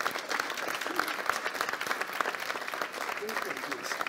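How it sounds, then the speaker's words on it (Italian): A crowd applauds festival volunteers at a festival closing and awards ceremony, with dense continuous clapping that stays fairly loud throughout, and voices mixed into the sound. "È un applauso a tutti i volontari."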